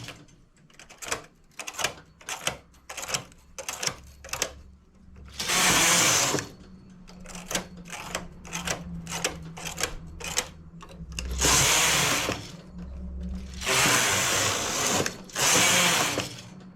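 A knitting machine knits rows of a child's dress with a knitted yoke: quick rapid clacks of needle selection alternate with several long, loud whooshing carriage passes across the bed, close up and without talk.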